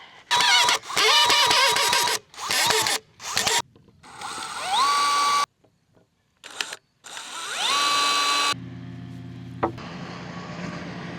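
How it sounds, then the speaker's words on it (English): A power drill whirs in several short bursts while assembling a raised garden bed, some rising in pitch as it spins up, with brief pauses between and a scraping noise near the end. "All right, let's put this second one together. My drill."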